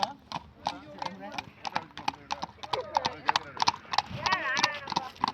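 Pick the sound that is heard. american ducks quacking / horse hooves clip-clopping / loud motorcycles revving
horse hooves clip-clopping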